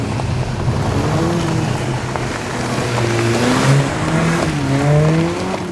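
A Mercedes-Benz GLA45 AMG crossover with a 355bhp engine drives off-road through a muddy field, its engine droning loudly and steadily with rising and falling revs over rumbling tyre and road noise.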